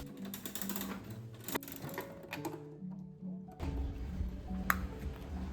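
A gashapon capsule machine in a Japanese shop being turned, a series of close mechanical clicks and ratcheting clunks with short pauses between turns.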